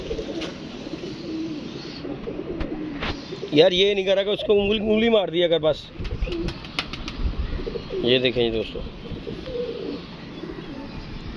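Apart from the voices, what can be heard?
pigeon cooing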